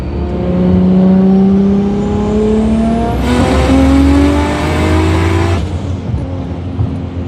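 An 850 hp Nissan Skyline R33 GT-R with a 2.8-litre stroker RB engine, held at partial throttle on a street drive, droning loud and steady, its pitch rising slowly before a high whine cuts off near the end.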